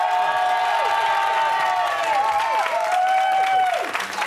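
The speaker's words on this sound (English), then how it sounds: "Give this panel a round of applause." A studio audience applauds and cheers for a discussion panel on a Friday night Big Brother UK companion show, with steady clapping and rising and falling whoops carrying loudly through the whole stretch.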